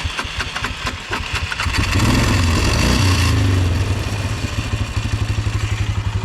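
A Polaris four-wheeler engine, reported running hot, idles with a low, steady mechanical rumble and clatter that swells louder midway and keeps a pulsing beat up close.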